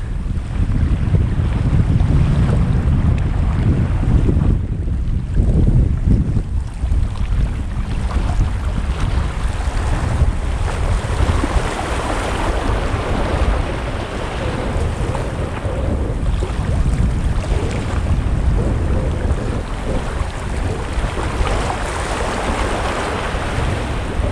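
Strong wind buffets the microphone in heavy, continuous gusts, with a rushing roar like surf or water underneath and no voices.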